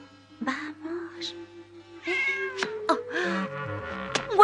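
A cat meows several times, drawn-out and plaintive with rising and falling pitch, close by over a low background hum, with a brief voice among the calls.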